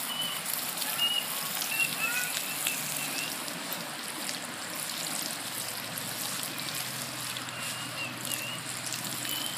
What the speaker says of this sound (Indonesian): Dan ini saya bawa sedikit air, kita siram.